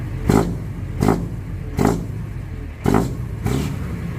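A car engine revs sharply five times in a steady rhythm, each quick blip of throttle rising and dropping back to a rumbling idle, loud and close.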